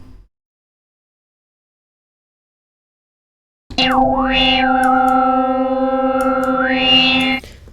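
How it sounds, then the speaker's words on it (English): Spire software synthesizer by Reveal Sound playing a sustained overdriven tone through its low-pass filter modes, a single bright distorted note with a swooping filter sweep that dips, holds steady, then rises again, loud and alone after a short silence. "can clearly hear the difference between the different modes of low-pass filter here."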